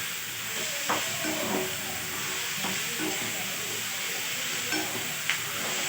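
Tomatoes cook in a pan for a paneer gravy, giving a steady, moderate sizzle and hiss with a few brief clinks and stirring scrapes, and no talking.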